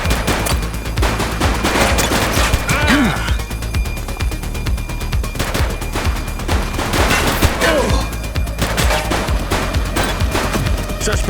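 Rapid bursts of gunfire crackle through a police video game shootout, dense repeated shots and automatic fire running throughout with brief lulls, loud and close, with a voice shouting over it.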